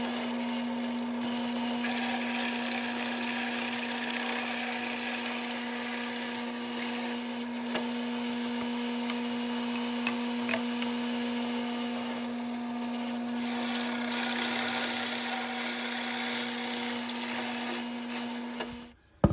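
A power tool cuts into plywood laid over a scrap piece underneath, giving a steady loud whine with a constant hum and rough wood-chewing noise for nearly twenty seconds before stopping abruptly.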